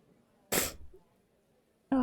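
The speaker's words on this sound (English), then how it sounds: "I felt a sneeze." A single sharp sneeze bursts out close and loud in a quiet room, followed after a pause by the start of a voice.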